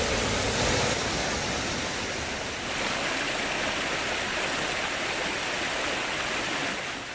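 Along the bank of the Tinto river near Villarrasa, the water rushes steadily and loudly, a continuous broadband wash with no pauses and no voices.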